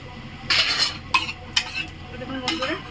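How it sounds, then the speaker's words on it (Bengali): Cashews and raisins frying in a pan for payesh are stirred with a spoon, giving a few short scraping strokes over a faint, steady sizzle. "এটা একবার করে নেড়ে দেব।"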